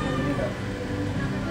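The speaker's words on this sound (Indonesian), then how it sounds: "Ini ada kucing." A cat meowing indoors while an Asus A456U laptop is being taken apart, one drawn-out, steady cry lasting under two seconds and sounding close.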